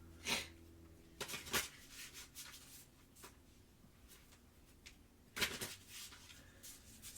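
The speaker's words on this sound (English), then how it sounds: "I'm gonna start shuffling another Oracle deck here." An oracle card deck is shuffled by hand, giving soft riffling and slapping bursts at irregular intervals with quiet pauses between them, close up and with no voices.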